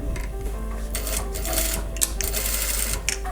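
A sewing machine stitches a collar onto a shirt, giving a steady, close mechanical whir with a fast rhythmic patter that runs without a break.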